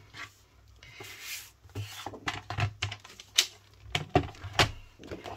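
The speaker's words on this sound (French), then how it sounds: "Ça fait du bien un massicot qui coupe." A paper trimmer slices a strip of cardboard, giving a run of sharp, uneven clicks and scraping cuts up close. Each stroke is short, and there are quieter rustles between them.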